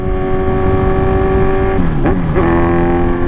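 A motorcycle engine pulls hard at around 100 km/h on a road with traffic. It gives a loud, steady, close droning tone that briefly drops and rises in pitch, like a gear change, then settles back.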